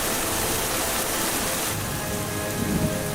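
Heavy monsoon rain pours down in India, a dense, steady roar that fills the whole clip with rumbling thunder beneath it and no voices.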